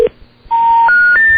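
Telephone dialing tones sound on a radio show as a call goes out to a guest: three short, loud keypad beeps in quick succession, each higher than the one before, right after a brief quiet pause.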